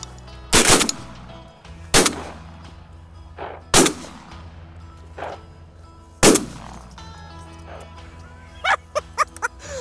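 Shotgun blasts during a wing shooting hunt for birds: several loud, close booms spaced a second or two apart, then a quick cluster of fainter shots at the end.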